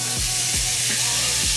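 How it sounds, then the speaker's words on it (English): Bacon frying in a pan, a steady close sizzle and hiss with faint stirring scrapes, heard alone. "I'm gonna add the bacon right into the pan, and then I'm gonna come back over. We're gonna let that cook"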